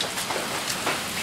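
Hail falling outdoors as a storm moves in, a dense, steady patter of many small impacts with a few louder hits, close and continuous, with no voices.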